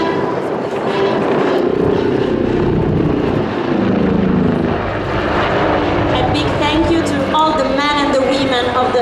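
An Italian Air Force Agusta HH-139B search and rescue helicopter performs its final display maneuver at an air show, its loud rotor and engine roar sustained throughout while an announcer talks over it.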